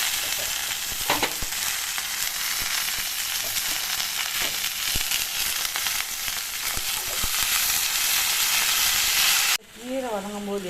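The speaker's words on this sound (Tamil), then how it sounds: "நம்ம வந்து இந்த கீரை வந்து கொஞ்சம் நல்லா வதக்கிடணுங்க" Manathakkali greens sautéing in hot oil in a pan for chutney, with garlic added, giving a loud continuous sizzle and crackle, then stirring scrapes, and a voice speaks briefly at the very end.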